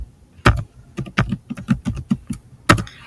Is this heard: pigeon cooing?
no